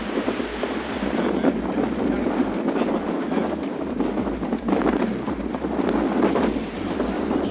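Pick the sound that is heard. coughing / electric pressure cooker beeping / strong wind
strong wind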